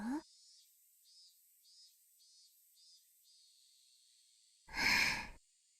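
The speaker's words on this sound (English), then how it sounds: "why is she breathing so close to us?" In the Higurashi When They Cry video game, a character breathes close by with one loud, breathy sigh near the end. Before it comes a quiet stretch with a faint, regular chirping tone like crickets.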